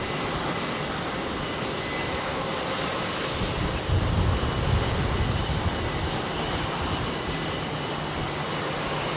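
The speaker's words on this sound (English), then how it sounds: "So that's the Embraer E2. I think it's a 190." An Embraer E2 190 jet departs Heathrow's runway 27R, its engines producing a loud, steady, broadband roar that holds throughout and swells slightly near the middle.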